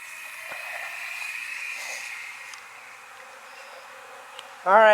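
A continuous buzzing drone of honeybees at an opened hive hums steadily, slightly fading partway through, before a brief louder clatter at the very end.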